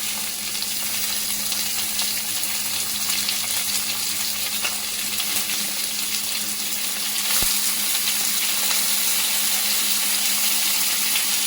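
Chopped onions sizzling in a pan for a tomato curry, a continuous dense frying hiss at steady loudness with a faint clink partway through, no voices.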